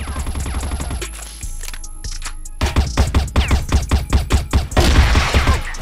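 Rapid bursts of video game gunfire crackle in quick succession, with sharp, loud shots in an uneven rhythm and a dense volley toward the end.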